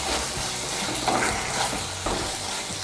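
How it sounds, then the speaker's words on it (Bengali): Boiled tomatoes stirred in a pan on a stovetop over raised heat, a soft steady sizzle with faint scraping and light clinks. "বাড়িয়ে দিয়ে আর একটু নাড়াচাড়া করে নেব"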